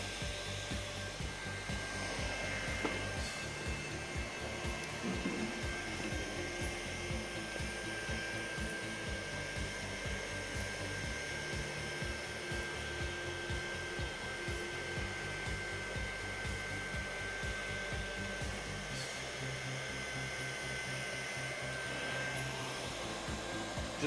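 A hot air welder blows steadily at an inside or outside corner while melting vinyl flooring weld material, a continuous close whooshing hiss with a fixed tone running throughout, no talking.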